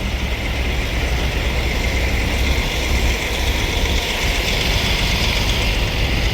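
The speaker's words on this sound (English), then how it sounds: "sorry for the noise with all the construction vehicles" Construction vehicle engines idle and rumble nearby outside a hikers' hostel in Erwin, Tennessee: a continuous, fairly loud, heavy mechanical drone with no talking.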